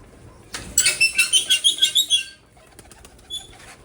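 Pigeons being fed grain and water set off a close burst of about ten rapid, rhythmic wing flaps, which then gives way to quieter shuffling and faint calls.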